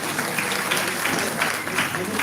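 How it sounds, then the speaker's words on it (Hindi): A crowd at a Bhagavat katha in a Ram temple in Moga, Punjab, claps loudly to welcome guests. The applause is dense and sustained, with many hands clapping close by and a faint murmur of voices beneath. "जोरदार तालियां बजा दो।"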